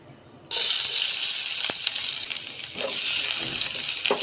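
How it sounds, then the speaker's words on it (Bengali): Chopped onion hits hot oil left from frying fish with a sudden loud sizzle that continues as a steady crackling fry, with occasional light clinks of stirring. "মাছ ভাজার তেলেই পেঁয়াজ কুচি দিয়ে দিচ্ছি"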